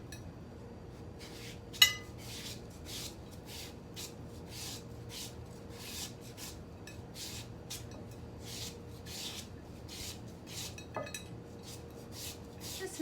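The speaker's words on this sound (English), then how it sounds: "I'm gonna chop papaya. I like to chop like this." A knife chops green papaya for salad in a fast, regular run of quiet scraping strokes, faint and close, with one louder clink near the start and another near the end.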